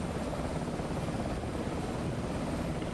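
A Cobra helicopter flies in a flight simulator game, giving a quiet, steady rotor and engine drone with no break across the moment.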